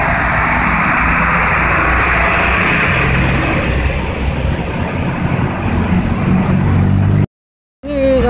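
Trucks and cars pushing through deep floodwater on a street near a market in Kendal, a dense steady wash of splashing water over a low engine rumble, loud and close, cutting out abruptly near the end.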